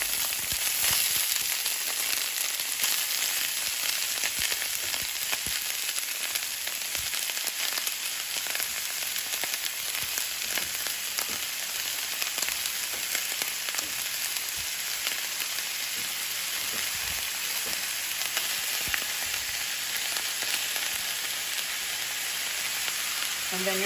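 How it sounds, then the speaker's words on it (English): Cabbage frying in olive oil in a hot skillet, a loud, steady sizzle with dense crackling and spitting that holds unbroken throughout, close up. "Now that my skillet is nice and hot, all I'm going to do is I'm going to slowly add my cabbage right to that pot"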